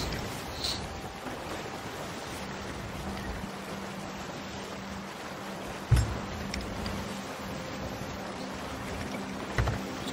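A sailing ship runs fast under full sails over rolling waves in the pirate game Sea of Thieves, with a steady rush of water and wind and occasional soft knocks.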